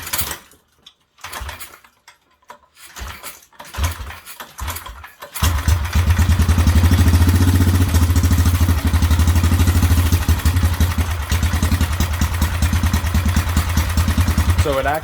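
A Whizzer motorbike engine fitted with a homemade kick-start: scattered kicking clatter for about five seconds, then the engine catches and runs loud and steady with a rough, throbbing idle.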